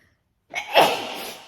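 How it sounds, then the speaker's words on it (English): A single loud, close sneeze bursts out after a brief silence, a sharp onset followed by a breathy trailing release. "I'm gonna sneeze."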